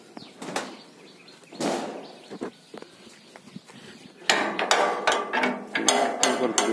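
A groundnut harvesting machine worked by three people, driven by a single-phase 1 HP motor near Melur, Madurai, clatters in irregular mechanical bursts, quieter knocks early, then louder rattling and banging strokes toward the end.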